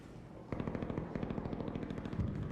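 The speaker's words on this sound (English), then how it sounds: "I hear gunshots" Rapid automatic gunfire in the Arc Raiders video game, a dense burst of shots firing steadily from mid-distance with no talk over it.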